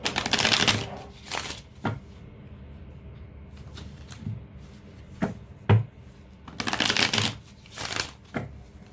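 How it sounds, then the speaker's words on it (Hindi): Tarot cards shuffled by hand, close up, in several quick riffling bursts separated by short pauses and soft taps. "तो अच्छे से शफल कर लेते हैं।"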